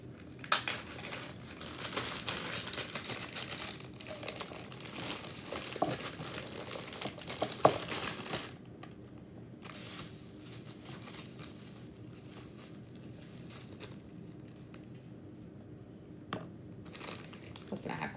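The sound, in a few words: plastic bag crinkling while a hole is put in it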